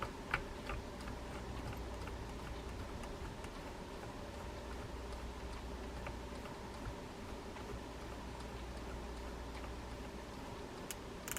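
A Shimano Tekota 500LC saltwater fishing reel, partly taken apart for service, gives a steady run of quiet mechanical clicks. The ticking goes on for the whole stretch, close and fairly faint, with no talking.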